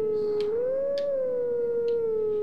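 Howling stone from The Legend of Zelda: Twilight Princess giving a sustained, wavering single-pitched howl with a slight rise and fall, steady and fairly loud throughout, with faint breathy accents over it.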